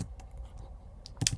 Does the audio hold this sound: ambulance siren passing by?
no